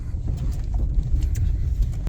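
A vehicle rolls along a long, bumpy gravel driveway with a low, steady rumble and faint rattles, close and continuous.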